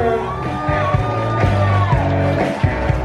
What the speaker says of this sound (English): Please welcome our bride's parents with a big round of applause, Joe and Elsie Escobar.